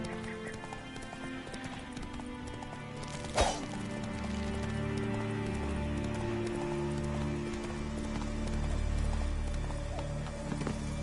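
Horse hooves clip-clop at a gallop in the Witcher 3 video game, a steady rhythmic beat throughout with a brief sharp knock partway and rumbling game ambience beneath.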